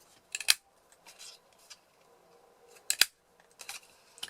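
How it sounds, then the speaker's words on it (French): A 1/2 inch paper punch cuts circles from thick white and black paper, producing a few sharp, close crunching clicks separated by quiet pauses, with faint handling rustles between. "Je vais découper des cercles avec ma perforatrice 1/2 inch."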